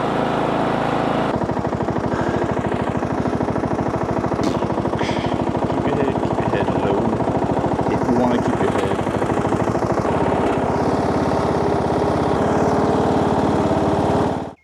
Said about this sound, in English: we're gonna try to pull it with the garden tractor